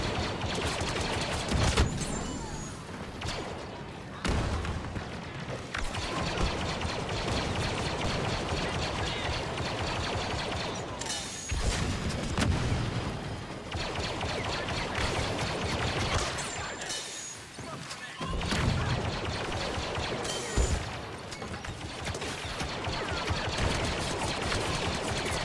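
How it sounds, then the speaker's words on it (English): Rapid bursts of blaster fire and explosions from the video game Star Wars Battlefront II, modded for extra sparks and explosions, dense and continuous with short gaps, loud battle din throughout. "One of the mods I have on adds more sparks and explosions."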